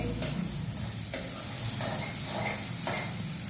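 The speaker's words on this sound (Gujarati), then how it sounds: "આ ડુંગળી ટમેટું તેલમાં ઘડી પર હળવા દઈએ" Onion and tomato fry in oil with a soft, steady hiss and sizzle, punctuated by a few brief bursts of crackle, heard alone with no voices.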